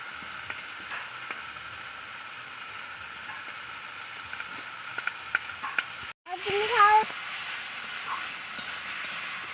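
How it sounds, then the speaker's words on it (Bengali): Fried potatoes go into a pan of cooked spice masala and sizzle steadily and up close, with a brief break before louder stirring and scraping in the pan. "মশলা কষানো হয়ে গেছে আমি দিয়ে দিচ্ছি ভেজে রাখা আলু"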